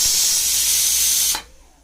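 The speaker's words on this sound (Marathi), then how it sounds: "शिट्टी काढून वाफ उतरून घेऊ" Loud steady hiss of steam escaping from a pressure cooker of mutton on a wood-fired stove, cut off abruptly near the end and leaving near silence.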